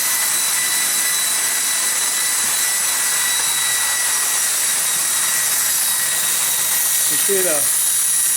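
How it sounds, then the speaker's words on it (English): A small steam turbine running steadily, giving a loud continuous high whine and hiss with steady tonal lines, close and unbroken, with a brief voice near the end. "turbines running right along"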